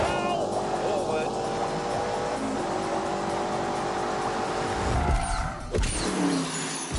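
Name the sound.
BMW car driving in The Grand Tour video game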